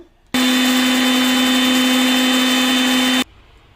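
A mixer grinder grinding soaked rice with water runs in one loud, steady whirring burst of about three seconds, starting and stopping abruptly, with no talk.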